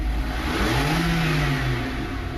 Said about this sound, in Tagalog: Umugong yung makina.